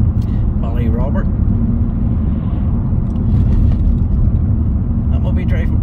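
A car drives into the small village of Ballyrobert in Northern Ireland past a filling station queue, a steady loud low road rumble and tyre roar throughout, with someone talking over it.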